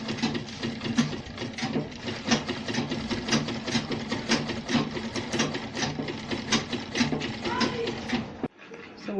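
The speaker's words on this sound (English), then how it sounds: "So now let's go and stitch it for reinforcement." A sewing machine stitching Ankara fabric for a sandal runs in a steady, close, rapid mechanical clatter for about eight seconds, then stops abruptly, leaving brief quiet.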